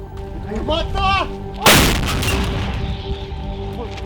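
A loud artillery gun fires once with a heavy boom that rolls and echoes away, following brief radio-like voice chatter beforehand.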